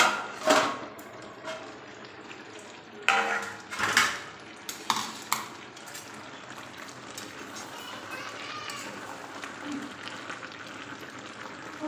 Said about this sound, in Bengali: এবার আমি ঢাকাটা খুলে একবার দেখব